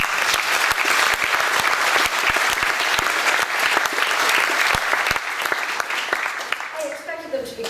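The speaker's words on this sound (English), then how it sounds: "Another round of applause." An audience at a writers' reading applauds loudly, with dense clapping that holds steady and then thins out toward the end, while a voice speaks over it.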